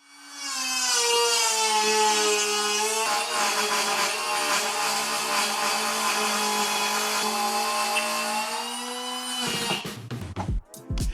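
A Ryobi router whines at a steady high pitch while cutting a straight groove in wood with an edge guide for several seconds, loud and close, then winds down into a few clunks.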